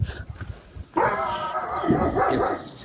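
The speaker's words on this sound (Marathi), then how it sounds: "आमची कुत्री." Soft shuffling, then a dog lets out a sharp, close bark that trails into a drawn-out whining yelp.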